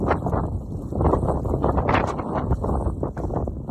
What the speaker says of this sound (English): It's getting very breezy though